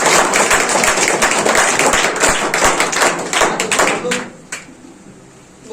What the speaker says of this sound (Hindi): और तो एक बार सर के लिए भी जोरदार ताली।